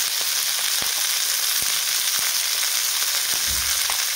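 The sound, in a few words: bell pepper vegetable sautéing in oil with turmeric and salt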